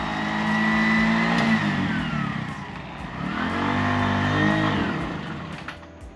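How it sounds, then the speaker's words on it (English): A car engine revs hard and high while the vehicle is stuck on a steep hill near Ella, the pitch swelling and falling in two long sustained surges as the driver rides the clutch. "gonna have to go a real high rev and just ride the clutch out"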